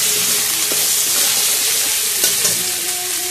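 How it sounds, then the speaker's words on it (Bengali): A paste of coriander, cumin and pepper frying in hot oil, giving a steady, close sizzle and crackle with occasional stirring scrapes and no talking. "একটু ভালো করে কষাবো, নুন হলুদ দিয়ে একটু কাশ্মীরি লঙ্কার গুঁড়ো দেবো কালারের জন্য"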